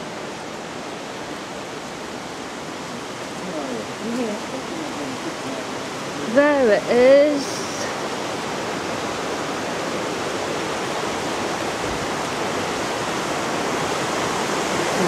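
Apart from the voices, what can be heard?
raging river torrent, Ingleton, Yorkshire Dales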